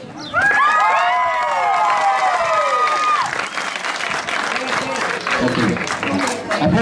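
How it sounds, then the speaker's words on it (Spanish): A crowd at a huapango dance contest during the San Juan Amajaque fair erupts with loud whistles and cheers, then sustained dense applause. "Aplausos, solamente aplausos para la pareja número 10."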